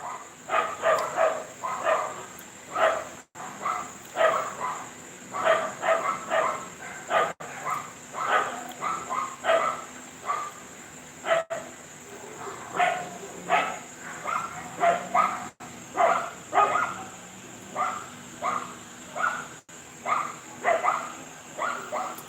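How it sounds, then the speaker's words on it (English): Dogs barking outdoors at night in Sosua, Dominican Republic, with repeated rhythmic barks at middle distance over a steady insect and cricket drone. "Why are these dogs barking?"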